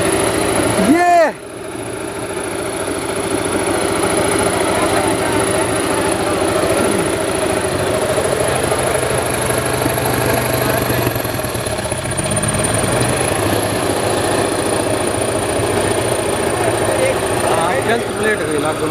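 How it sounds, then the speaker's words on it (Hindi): A Sonalika DI 750 tractor engine with a technical fault runs steadily and loudly throughout, a continuous mid-pitched drone with a high whine above it, after a brief sharp knock near the start. "टेक्निकल फॉल्ट होगा अभी ट्रैक्टर के अंदर"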